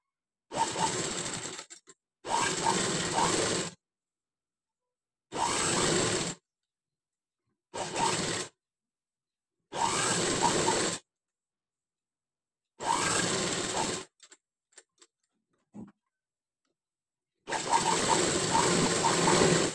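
Domestic sewing machine stitching along a patchwork edge, running in repeated short bursts of mechanical whirring with clear pauses between them, close and fairly loud, no talking.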